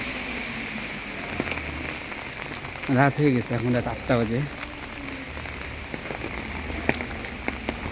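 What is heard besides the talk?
rain falling on street at night in Bari, Italy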